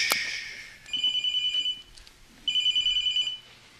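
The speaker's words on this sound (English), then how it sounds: "Text message." Phone alert for an incoming text message: a short burst of sound, then two bright electronic warbling tones, each about a second long, close and clear with no talk.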